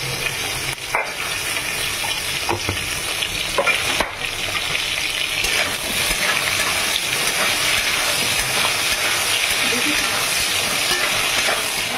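Raw green banana pieces frying in a pan with potatoes, sweet potatoes, spices and bay leaf, giving a loud, continuous close-up sizzle punctuated by a few sharp clinks and scraping stirs of a utensil, with faint talk at moments.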